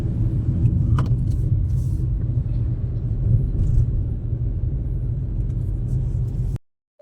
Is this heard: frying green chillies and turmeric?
no